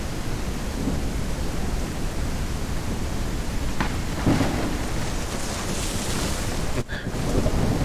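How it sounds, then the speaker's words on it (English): Falling trees during a storm in the Railroads Online train game: a steady roar of wind and rain with a few sharp cracking bursts and a heavy crash near the end, no talk. "The sound of falling trees in a storm."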